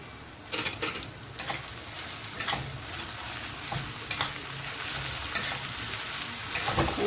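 Tomato and onion sautéing with chili powder, coriander powder, turmeric, homemade masala and salt in a pan, with a steady sizzle and irregular scraping stirs, close and moderately loud with no talk.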